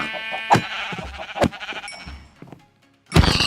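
Sheep bleating in a Minecraft modpack world, several harmonic bleats overlapping in quick succession, loud and close, with a short quiet gap before another burst.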